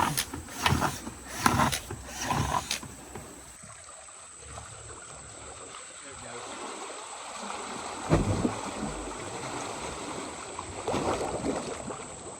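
Rushing water flows steadily through a drain pipe draining a duck pond, churning and gurgling with air, with a few louder splashing bursts near the start and a constant broadband wash.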